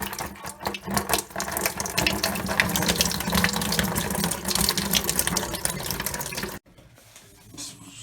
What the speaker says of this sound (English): We already got a leak sprung, and that's just from loosening it